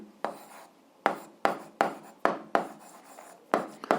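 Chalk or pen strokes on a board or paper while working an eighth-grade algebra exercise, eight or so sharp scratchy strokes in an irregular rhythm, close and alone.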